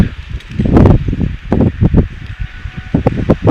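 Gusty south wind at a high school baseball field buffeting the microphone, rough low rumbling bursts and rustling in uneven waves, close and loud.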